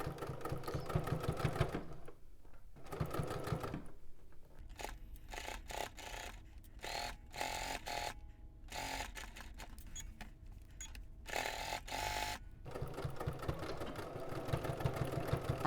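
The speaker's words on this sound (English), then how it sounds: "we're going to edge stitch our pocket down, leaving the opening here." A home sewing machine edge stitches a pocket down along three sides on a McCall's M8414 garment. The motor whirs in several short and longer runs, broken by brief pauses, with no talk.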